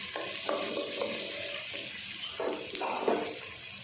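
Ginger and garlic frying in a pan for an egg and pea curry, a steady close sizzle with soft stirring scrapes and a few brief louder bursts, no talking.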